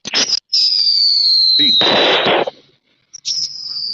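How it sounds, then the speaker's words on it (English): Fireworks bursting outdoors on a summer night in Oklahoma, several loud booms and crackling bursts, one with a long rising whistle, separated by short quiet gaps. "It's really weird though to hear fireworks go off"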